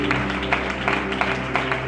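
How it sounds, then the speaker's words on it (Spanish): Applause during a church service, a dense, steady wash of clapping from a congregation mixed with a low hum and musical tones in the background. "aplauso para el Señor, por favor, con gratitud"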